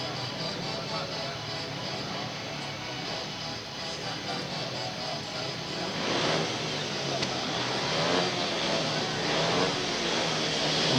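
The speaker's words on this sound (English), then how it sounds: "The bikes are revving away." Speedway motorcycles at the start line of a National League meeting, engines droning and revving together in a loud, continuous roar that swells in the second half.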